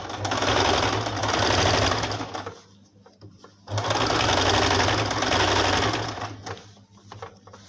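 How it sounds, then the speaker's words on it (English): A sewing machine stitches over elastic on a dress in two loud, fast, continuous runs with a short pause between them, heard up close with no talk. "pull it, and then keep sewing, pull it, and then just sew on top of this elastic"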